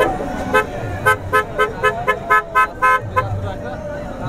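Repeated car horn toots at a 2022 PTI Haqeeqi Azadi long march rally in Lahore, about eight short honks in a steady rhythm over crowd noise and traffic rumble, fairly close and loud.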